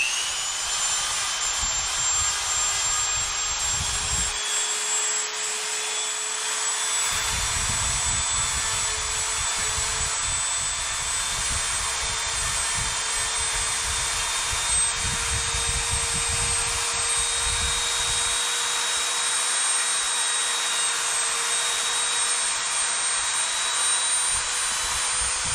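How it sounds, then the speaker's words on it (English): A Dremel rotary tool fitted with sandpaper whines at high speed while cleaning up cuts on Tekno MT-410 RC truck parts, a continuous loud, close buzz with sanding grind that comes and goes against the workpiece. "I'm going to get my Dremel set up with some sandpaper on it. We're going to clean up these cuts."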